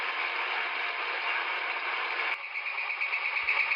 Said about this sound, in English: Take a look at that speed on this particular spin cycle.